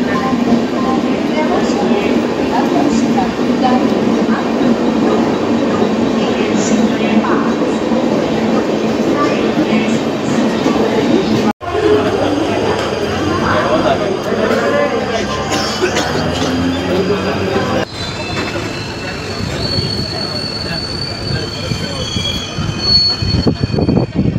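A Mumbai suburban local train runs along the rails toward Malavli station, its wheels squealing loudly and steadily over a constant rumble and rattle of the carriages, with voices faintly audible inside.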